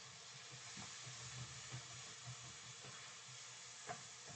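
Shallots sizzle in oil in a pan with a steady, close hiss of frying. Faint clicks and stirring taps come through now and then.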